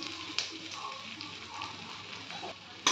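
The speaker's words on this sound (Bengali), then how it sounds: "এবার এর মধ্যে আমি 1 চামচ আদা কুচি দিয়ে দেব।" Chopped ginger hitting hot oil with whole cumin, panch phoron and chilli, giving a soft, steady sizzle with a few sharper crackles and a louder burst at the end.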